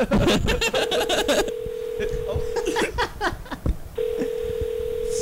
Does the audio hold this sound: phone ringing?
yes